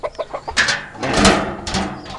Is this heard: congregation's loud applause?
no